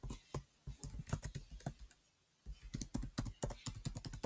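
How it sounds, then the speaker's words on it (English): Quick bursts of keystrokes on a computer keyboard as the alphabet is typed, close and crisp, with a short pause midway before the rapid tapping resumes; no talking. "can we type the alphabet here?"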